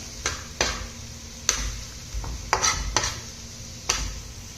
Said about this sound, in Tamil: வெங்காயம் வந்து நல்லா பொன்னீரமாக வதக்கணும்